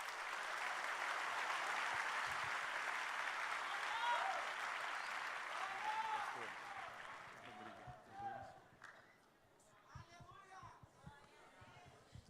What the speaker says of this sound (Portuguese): Você pode recebê-lo um aplauso mais forte.